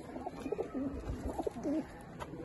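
Pigeons kept by a Lahore pigeon fancier coo in low, repeated rolling phrases, several calls in a row close by, with faint background noise.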